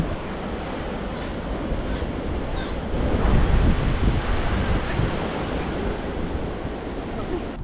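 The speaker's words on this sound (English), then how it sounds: "Certainly swell, some beautiful waves" Ocean surf breaking on clean lines at Blacksmiths Beach, a steady broadband wash of waves with a swell that builds louder around the middle, mixed with wind noise and no talking.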